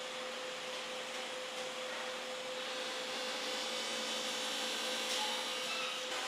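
An automated factory machine shapes a hard ebony guitar part: a continuous, dense whirring roar with a steady tonal hum running through it, holding level throughout with no talking.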